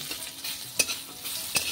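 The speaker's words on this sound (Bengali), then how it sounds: "তো দেখো একটা আলু রীতিকার জন্য ভাজা করছি" A potato frying in a pan for a child's meal, with soft continuous sizzling broken by a few sharp spatula scrapes or stirs, close and moderately quiet.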